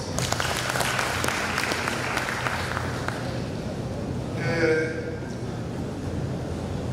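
An audience at a live event applauds in a steady, wash-like round of clapping that fades after a few seconds, giving way to someone speaking.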